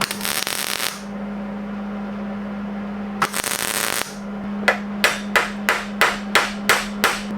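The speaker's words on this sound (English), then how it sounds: "I'm gonna weld it there." MIG welding a gas tank filler mount held in a vise: two long buzzing, crackling arc bursts, then a quick run of short, evenly spaced tack-weld zaps over a steady background hum, close and loud.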